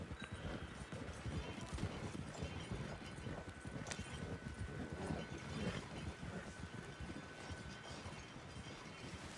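Steady clip-clop of horse hooves pulling a wagon in Red Dead Online, with rattling wheels and creaking mechanisms rolling along at a constant pace, a faint tone running underneath.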